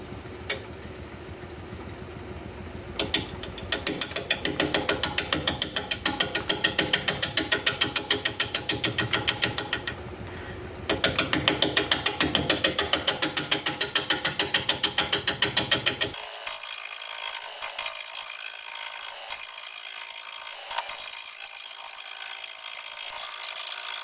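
A wood lathe spins an out-of-balance olive wood blank at low speed, producing a loud, rapid rhythmic thumping and rattling that shifts to a steadier whir partway through.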